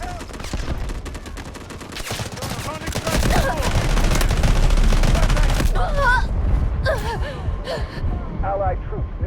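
Gunfire from a Delta Force Mobile warfare match in the mobile shooter, dense rapid automatic bursts and cracking shots filling the mix, then thinning into scattered shots under radio-style battlefield voices.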